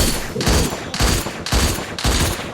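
Rapid bursts of gunfire ring out from a mobile shooting video game, about five loud, evenly spaced shots in quick succession, close and sharp.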